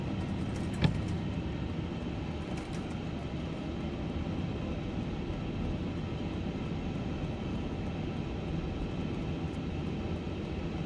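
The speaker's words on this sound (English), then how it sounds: "Up here trying to get away from this damn plane." Steady engine drone of an airplane flying nearby in Microsoft Flight Simulator 2024, a constant low roar with one brief click near the start and no talking.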